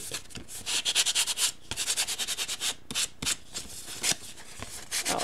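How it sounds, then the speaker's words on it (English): Sandpaper rubs over embossed, inked cardstock in quick, rhythmic back-and-forth strokes, a close, scratchy rasp that pauses briefly between short bursts, with no talking. "So I'm just going around and sanding it to add that little bit of white pop through."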